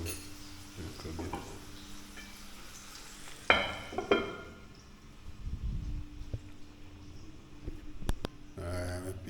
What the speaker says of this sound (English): Cover that and make it go and simmer down a little bit